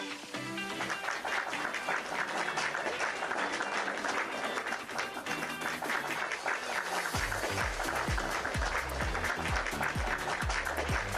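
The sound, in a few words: audience applause at conference session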